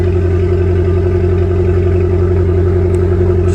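Abarth 595 salvage car engine running steadily just after a start with no throttle pedal fitted, a loud, even idle hum throughout in a garage.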